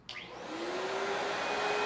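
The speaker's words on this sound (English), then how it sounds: "Next thing I'm going to do is turn my vacuum on." A ProTeam backpack vacuum cleaner switches on with a sharp click. The motor whine climbs quickly, then settles into a loud, steady roar with a high tone, close up and with no talking.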